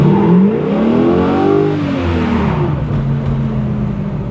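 A 1969 Camaro Yenko recreation with a mechanical flex fan revs close by. The engine swells up and falls back in pitch, then settles into a lower, steady rumble with no talking.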